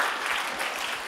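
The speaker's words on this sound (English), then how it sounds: "can we get a round of applause for that?" An audience at a Millennium Stage author conversation gives a round of applause, continuous dense clapping heard alone for about a second at an even level.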